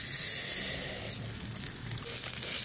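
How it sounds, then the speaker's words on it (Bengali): Mung dal frying in oil gives a soft, steady sizzling hiss, fairly quiet and continuous, with no voices over it. "ডালটা আমি ভেজে নেব।"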